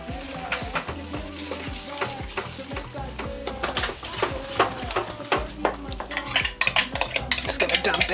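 A spoon stirs a mixture that includes a yogurt and baking soda blend in a bowl, with steady scraping and clinking strokes against the sides. It is fairly close and moderately quiet, with light clatter building toward the end.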